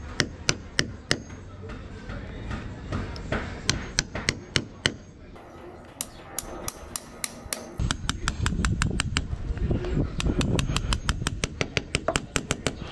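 Chisel work cutting a recess for a pulley into wood aboard a once-sinking wooden sailboat: sharp mallet strikes land in quick bursts of several blows with short pauses, close and loud over a steady background hum.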